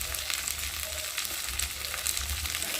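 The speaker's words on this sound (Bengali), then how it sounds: "এই মশলার সাথে ভালো করে টমেটোটা গালিয়ে নেব, নেড়ে দিয়ে নেব।" Tomato cooks with green chilli, salt and turmeric in a pan, a close, lively sizzle and crackle broken by soft scraping as it is stirred, with no voices.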